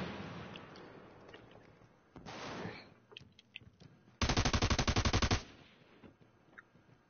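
A long burst of rapid automatic gunfire in a shooter video game rings out close and loud after a rushing swell and scattered clicks, then fades back to quieter game ambience.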